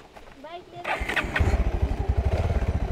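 A motorcycle engine rumbles close by with a steady pulsing throb that builds after a brief quiet start, while people speak over it on a village ride.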